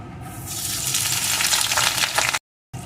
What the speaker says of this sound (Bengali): এখন এর ভিতরে দিয়ে দেবো একটা পেঁয়াজ কুচি